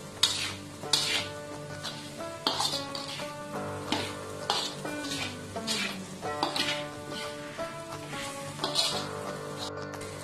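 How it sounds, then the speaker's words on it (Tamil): Carrot, potato and onion sautéing in oil with tempering spices for a masoor dal sambar, a close sizzle broken by rhythmic spatula scrapes and metallic knocks against the pan. "இந்த கேரட், உருளைக்கிழங்கு, வெங்காயம், தாளிதம் எல்லாத்தோடையுமே சேர்ந்து அந்த எண்ணெயிலையும் வதங்கி"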